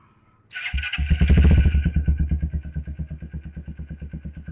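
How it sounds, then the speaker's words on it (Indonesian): Custom cafe racer Honda CB150 Verza motorcycle starts up and settles into a steady, loud idle, its exhaust putting out a close, even throb of rapid pulses with no talking. "kita coba untuk tes sound knalpot di motor ini"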